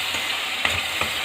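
A spoon stirs tomato puree into onion paste in a hot pan for paneer matar masala. A short, close sizzle is broken by two or three soft scraping strokes.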